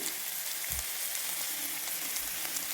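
Mustard seeds and chopped big onion frying in hot oil in a home kitchen while cooking bottle gourd, giving a steady dense sizzle and crackle with a few small pops throughout.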